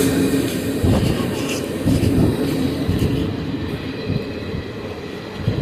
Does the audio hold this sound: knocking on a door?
no